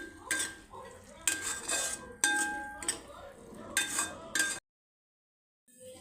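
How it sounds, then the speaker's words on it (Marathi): A spoon stirs masala with salt and garam masala in a pan for a chickpea curry, giving repeated scraping, clinking strokes in short bursts, close and moderately loud, before a brief silence. "एक चम्मच गरम मसाला घालायचा व्यवस्थित असं मिक्स करून घ्यायचं आहे त्याला तेल सुटेपर्यंत"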